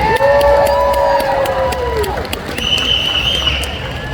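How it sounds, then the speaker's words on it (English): Cheering and clapping from an audience at a tattoo expo pinup pageant, with loud whoops and high shouts over the applause, close and lively throughout. "So let's give everybody a hand of applause"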